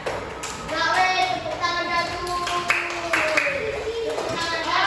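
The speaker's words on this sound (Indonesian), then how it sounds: "Tepuk tangan." Children clap their hands in a classroom, a burst of clapping with excited young voices talking and calling out over it.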